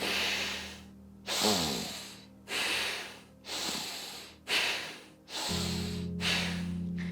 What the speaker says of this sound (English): That is the rhythm that you want. You want in, out, in, out.